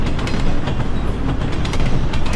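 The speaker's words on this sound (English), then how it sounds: "you get off the train and observe it moving across in front of you" A train rolling past close by as a loud, steady rumble with faint rhythmic clatter and light metallic ticks, with no voices.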